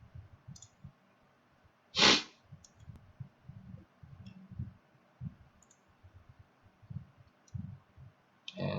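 Computer mouse clicks at a desk during a VMware server setup, scattered soft taps and clicks with one sharper, louder click near the start, all close and fairly quiet against a low background hush.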